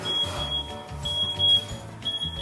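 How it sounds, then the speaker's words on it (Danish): Kitchen timer alarm while baking a Christmas cake, repeated high electronic beeps in short bursts with brief gaps, over low rumbling room noise. "Nu piper alarmen."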